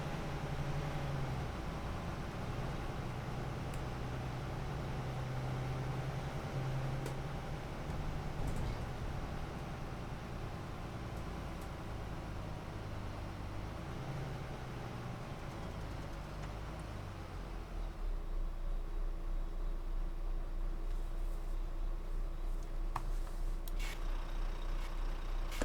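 A B9 bus in the OMSI 2 driving game, running with the window open. A low engine drone and road rumble hold steady throughout, shifting to a deeper, louder idle-like hum near the end.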